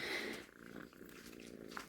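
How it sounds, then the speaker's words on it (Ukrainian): A big house cat purrs up close, a low, continuous, rumbling purr that stays quiet and even throughout, with no talking over it. "Мої котяри, а цей так такий здоровий."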